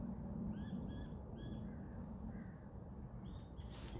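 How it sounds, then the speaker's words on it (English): Birds call in open countryside, with repeated chirps and whistled notes rising over a steady broadband background hiss; the calls come in short bursts at moderate distance, with a brighter flurry near the end. "Just the birds"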